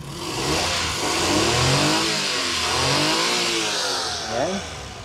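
The small engine of a Suzuki Every double cab is revved up and down several times in rising and falling sweeps, loud and close, with a brief voice near the end.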